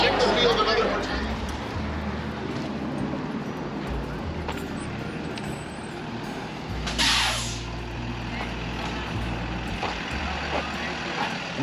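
A parked bus area in Saratoga Springs, New York, where a bus engine idles with a low rumble and a sharp air brake hiss bursts out around the middle, while nearby people chat in a background murmur.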